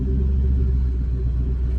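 Ford Focus twin turbo V pulling away as the clutch is released, a steady loud low engine rumble heard from inside the car with no voices.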